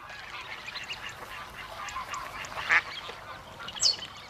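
A mallard duck gives a few faint calls, two sharper quacks standing out near the end over a soft, noisy outdoor background.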